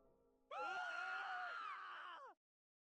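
In the game Virche Evermore, a single shrill, wavering scream from a crowd of voices rises suddenly, holds for about two seconds and then cuts off, sounding faint and far away.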